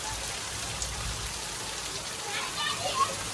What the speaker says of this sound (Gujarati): તો ગાઈસ વરસાદ આવી ગયો